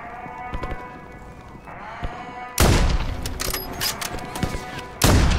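Call of Duty Modern Warfare 3 gunfire: bursts of loud, close shots erupt after a quieter stretch, with a sharp blast near the end, layered over game sound effects.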